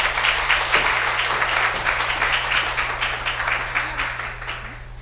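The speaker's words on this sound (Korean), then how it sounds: "큰 박수로 환영해 주시면 감사하겠습니다." A seminar audience at Seoul National University's Graduate School of Public Health claps to welcome a presenting professor. The crowd applause is dense and sustained, tapering slightly toward the end, over a steady low electrical hum.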